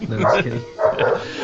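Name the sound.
dog barking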